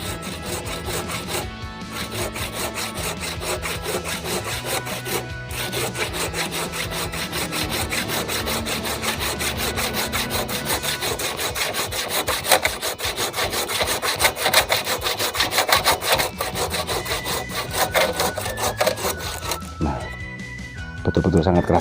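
Handsaw cutting through a hard Duranta bonsai trunk in steady, rapid back-and-forth strokes, loud and close, with brief pauses between runs of scraping.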